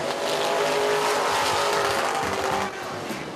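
Asphalt limited modified race cars at Central Texas Speedway produce a continuous loud engine roar, close and steady for several seconds before easing slightly.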